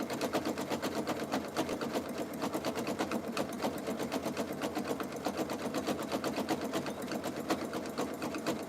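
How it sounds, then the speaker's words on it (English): A sewing machine stitches jelly roll fabric strips for a rug, its fast, even mechanical chatter running steadily and close throughout. "Sometimes I wish this machine would go quicker, but then I also don't miss skipped stitches"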